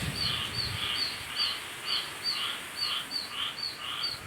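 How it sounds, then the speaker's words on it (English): Baby birds calling from a tree during a hurricane, a repeated high-pitched rhythmic screeching at roughly even intervals over a wash of wind and rain, moderately faint. "that's the hurricane update and the baby birds screaming."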